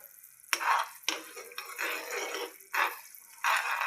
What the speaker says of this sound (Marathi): असंच फिरवत राहायचं